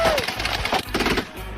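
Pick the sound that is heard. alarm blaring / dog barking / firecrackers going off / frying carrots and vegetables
firecrackers going off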